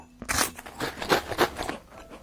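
Flaky, buttery pastry bitten and chewed, giving a run of close, crisp crunches in quick bursts, loud and alone with no talk.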